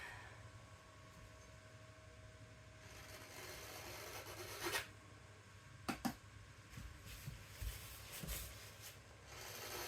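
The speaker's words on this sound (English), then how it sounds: "I'm just scraping a little bit of the paint off the canvas." Paint being scraped off a canvas with a tool, soft rasping strokes growing louder midway with a few sharp scrapes and knocks, quiet and close.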